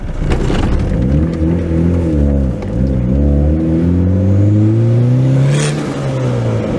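Honda car driving up close, its engine rising and falling in pitch as it accelerates, slows and turns around, with a steady loud hum throughout.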